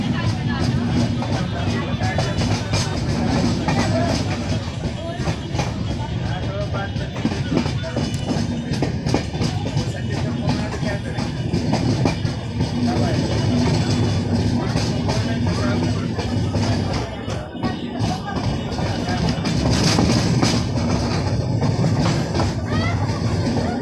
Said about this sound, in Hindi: तो हमारी ट्रेन धर्माबाद रेलवे स्टेशन से भी निकल गई।